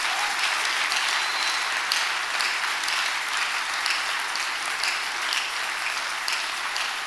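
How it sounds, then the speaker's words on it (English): A church congregation claps steadily and loudly, dense applause filling the room without a break. "Clap for Jesus."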